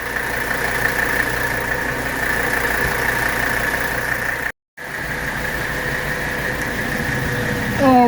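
A 1983 Mercedes 300CD engine idles steadily while warming up, a continuous close mechanical hum with a brief dropout midway, no talking over it.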